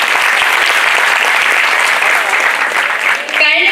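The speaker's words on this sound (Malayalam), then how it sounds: "ഗായകർക്ക് വേണ്ടി ഒരു കൈയടി കൂടി കൊടുക്കാം." Loud, sustained clapping from an office audience thanking staff singers after Onam songs and vanchipattu, a continuous dense wash of hands close by that dips briefly near the end.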